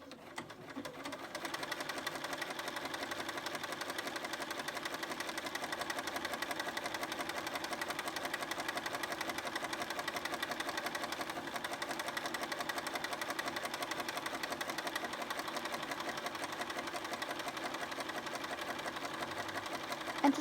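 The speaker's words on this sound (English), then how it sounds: "Press and hold the green button down to start sewing." A Bernina 5 Series sewing machine stitches continuously at an even, rapid mechanical rhythm for about twenty seconds, a steady close whirring hum with no talk.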